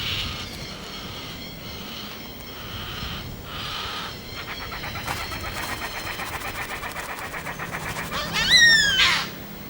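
A yellow-tailed black cockatoo in Tasmania feeding its almost fully grown chick, with repeated rasping, wheezy begging calls in a steady rhythm that swell to a louder burst near the end, set against soft forest background noise.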